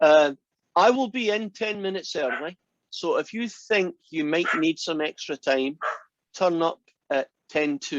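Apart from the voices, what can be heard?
No everyday noise stands out behind the speech.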